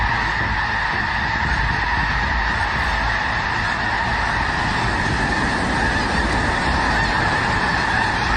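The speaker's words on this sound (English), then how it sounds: "A breathtaking sight thousands of snow geese take to the skies," Thousands of snow geese honk together as they take flight, a dense, loud, continuous wall of overlapping calls that persists unbroken throughout, with no voices over it.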